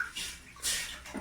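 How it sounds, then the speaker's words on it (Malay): Water pours into a cooking pot while preparing a spicy sour stingray dish, a brief splashing rush in uneven spurts, close and fairly soft. "masukkan air sekarang"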